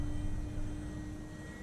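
A Maule M7 light aircraft flies overhead in low light, heard as a faint, steady engine drone with a constant tone and no pauses.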